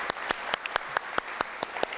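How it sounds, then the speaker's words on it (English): A few people clap for Roger at a Boy Scouts council award event, with slow and distinct claps roughly five per second, close and fairly loud. "I've got to have a round of applause."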